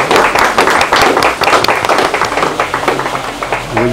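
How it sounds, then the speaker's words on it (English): A community audience gives a round of applause at a support event, close and loud, with dense overlapping hand claps continuing steadily throughout. "Let's give them a round of applause"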